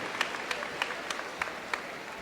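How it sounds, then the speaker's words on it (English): A commencement audience at a spring university graduation claps for an honoured guest, a thin, sparse patter of scattered hands with a handful of distinct sharp claps spaced roughly evenly over a couple of seconds. "Let's give another round of applause to Dr. David Satcher, Surgeon General, leader of great distinction."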